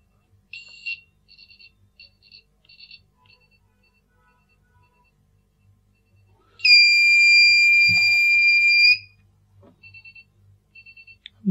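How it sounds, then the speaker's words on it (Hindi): An IR remote debugger kit's piezo buzzer sounds short high beeps in bursts, then one long continuous tone, then more brief beeps as infrared signals arrive, with faint clicks and handling noise between. "जितनी ज़्यादा आईआर रेज होंगी उतना ज़्यादा ये ब्लिंक करेगा और उतनी तेज़ी से हमारा बजर बीप करेगा"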